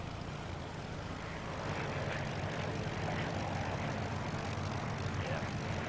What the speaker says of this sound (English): I'm sure I can hear someone else's plane getting up really close.